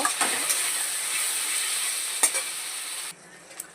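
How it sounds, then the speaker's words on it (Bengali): Hilsa masala with turmeric being sautéed in a pan, a loud steady sizzle with a few sharp spatula scrapes, dropping suddenly to near quiet at the end. "পরিমাণ মতো একটু হলুদ দিয়ে দেব দিয়ে এটাকে আমি আর একটু সুন্দর করে কষিয়ে নেব"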